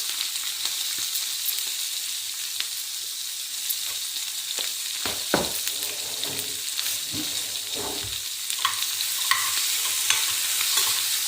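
Sliced onions with turmeric and salt frying in a pan until golden brown, a constant bright close sizzle with a few scraping stirs in the middle, no voices.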